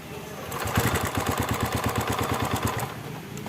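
Small single-cylinder engine of a TVS XL100 BS6 moped with a faulty temperature sensor, catching and running with a fast, even, chugging putter, close and fairly loud for a few seconds.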